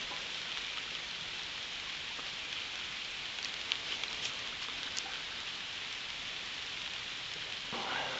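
Steady rain falls through autumn woods during a mushroom hunt, a dense even hiss of drops on leaves with a few sharper nearby drips, constant and moderately loud with no talking.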